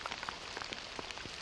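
Cold rain falls steadily at front-line trench positions in the steppe, a soft continuous patter with scattered close drips, no voices.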